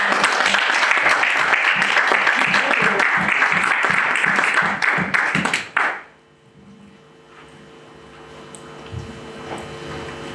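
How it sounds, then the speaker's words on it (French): A church congregation applauds and cheers for Jesus at a French-language sermon, loud sustained clapping with rhythmic beats and shouts that cuts off abruptly, leaving quiet room tone with faint noises. "Je crois qu'on allait acclamer Jésus."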